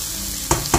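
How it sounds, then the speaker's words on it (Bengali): Chicken and tomato fry in a pan with a steady close sizzle, broken by two sharp scraping stirs near the end. "টমেটোটা দিয়ে এখন ভালো করে এগুলা ভাজা ভাজা হতে থাকুক"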